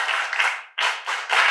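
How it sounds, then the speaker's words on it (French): A group of schoolchildren in a classroom claps in rhythmic bursts of applause. One brief pause breaks the clapping before it resumes strongly, close and lively. "Les amis, applaudissez pour la guérison et le retour de Kossi à l'école."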